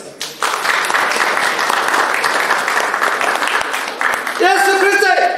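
A congregation applauding during a Christmas sermon in a church, a dense, sustained round of clapping from many hands, with a voice rising over it near the end.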